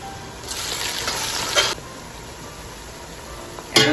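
Ghee sizzling in a pan with browned onions for beef biryani, a burst of crackling frying that fades to a low hiss, then flares up again briefly at the end.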